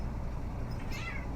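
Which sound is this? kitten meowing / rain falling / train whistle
kitten meowing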